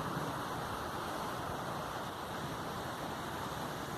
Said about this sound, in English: The beautiful sound of the river and water.